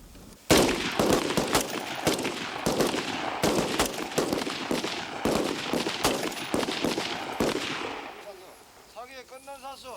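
Rapid rifle fire from Marines at a shooting range, a dense run of sharp, loud overlapping shots for several seconds before easing off, with a voice speaking briefly at the end.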